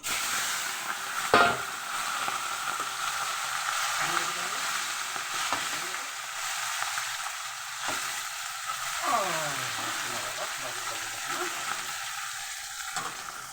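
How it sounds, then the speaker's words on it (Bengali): Fish sliding into hot oil and frying, a steady close hiss that runs throughout, with an occasional tap or clink of a utensil and a few faint crackles, no voices. "তো আমি আগে এই মাছটাই ভেজে নেব"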